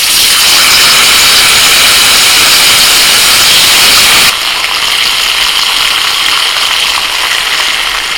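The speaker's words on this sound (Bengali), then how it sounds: "এবার মাছের পিসগুলো একটা একটা করে দিয়ে দেবো।" Hilsa fish pieces drop into hot mustard oil with black cumin in a wok, setting off a loud, dense sizzling hiss that eases slightly partway through and keeps going.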